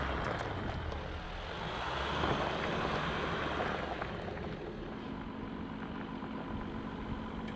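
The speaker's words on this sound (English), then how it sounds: "With four-wheel drive low and the sway bar disconnected, again, just cruises right up this no problem, going as slow as I possibly can." A Jeep Wrangler Unlimited Rubicon EcoDiesel from 2020 crawls slowly up a steep off-road hill in four-wheel drive low, its diesel engine giving a steady low rumble mixed with wind noise throughout.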